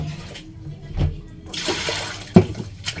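Water poured onto a plate while washing dishes in a sink, heard as a few short splashing bursts and gushes with a sharp splatter near the end, fairly close.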